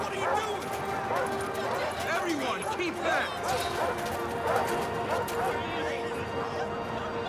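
Dogs barking in the video game Far Cry 5, several sharp barks scattered through a busy, noisy game scene with footsteps and other activity.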